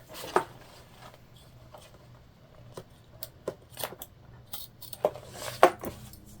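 Close, crisp snips and clicks of scissors cutting zipper tape, irregularly spaced over several seconds with quiet handling noise between.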